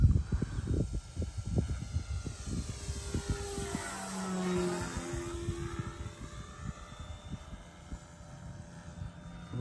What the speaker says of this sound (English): it sound like the prop may have a little unbalancing in it